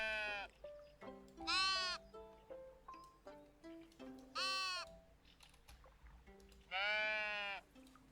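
Sheep in the video game Tiny Glade bleat several times in long, wavering calls over a soft, gentle melody playing throughout.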